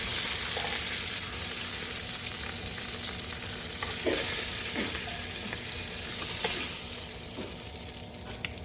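Chicken pieces frying in rendered chicken fat and oil, a loud continuous sizzle and hiss with occasional stirring scrapes and pops, heard up close without talking.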